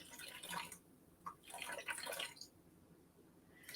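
Water being poured into a mixing bowl on a kitchen scale for sourdough bread dough, heard as uneven splashing bursts with pauses between, fairly faint.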